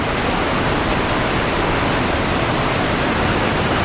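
Heavy rain pouring down hard and strengthening in the late afternoon, a dense, constant roar of falling water filling the whole stretch, loud and close with no voices over it.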